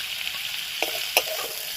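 Shrimp fry in hot oil in a pan, a steady bright sizzle with a couple of sharp stirring clinks near the middle, no voices.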